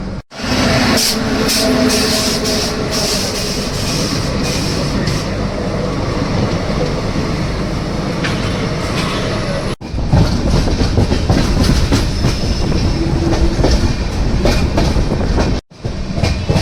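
The Puri–Howrah Shatabdi Express rumbles steadily along the tracks near Bhubaneswar, heard from an AC chair car, with rhythmic clatter and rattling carriages, loud and continuous, briefly cutting out twice.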